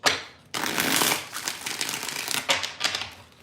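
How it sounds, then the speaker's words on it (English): Tarot cards are shuffled by hand in quick riffling bursts, close and crisp, with a short pause before a second run of rapid flicking. "2 more shuffles."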